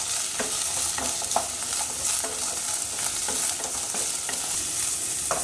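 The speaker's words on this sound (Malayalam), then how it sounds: "250 ഗ്രാം പടവലങ്ങ അരിഞ്ഞത് വഴറ്റി കൊടുക്കാം." Chopped snake gourd sautés in coconut oil in a pan for a Kerala-style olan with jackfruit seeds, a steady close sizzle broken by soft scraping stirs.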